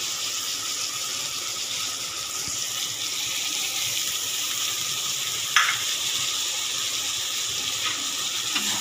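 Chicken pieces fry in a pan as tomatoes go in, giving a steady close sizzle with one sharper crackle partway through and no talk.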